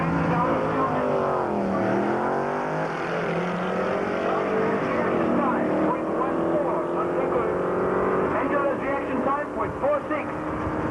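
Drag racing at Tarlton in 1997, with a turbocharged Ford four-cylinder two-litre engine and a V8 Capri. Engines roar and rise in pitch through the gears, loud and sustained, while a commentator talks over the noise.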